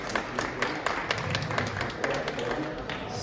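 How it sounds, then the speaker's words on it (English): A small round of applause at a financial awards announcement event, sparse, uneven claps and taps from a few people with a thumping, close quality, moderately quiet throughout. "So this is a round of applause, Roland, to you and your team."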